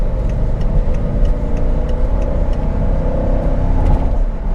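A 2007 BMW X5 pulling up to 60 mph on partial throttle, heard from inside the cabin as a steady, loud engine and road drone with a faint ticking over it.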